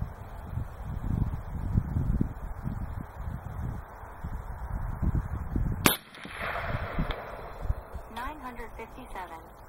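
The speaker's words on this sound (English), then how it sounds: "Three lubes coming up now. Lubed, first shot." An air rifle fires a single lubed slug outdoors, a sharp crack partway through amid wind and rustling, with someone talking before and after the shot.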